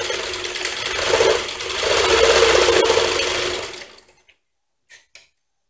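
Sewing machine stitching fabric for a baby doll, a steady mechanical whir running in two bursts with a brief pause, then stopping abruptly, followed by a couple of faint clicks.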